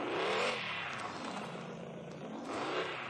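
A car driven in the Free Fire video game revs and accelerates, its engine rising and falling in pitch with some clatter, loud and steady throughout with no talk over it.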